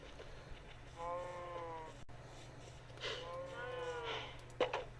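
A cow in the Minecraft video game moos twice in drawn-out, nasal calls over a steady low background hum, with a sharp click between them.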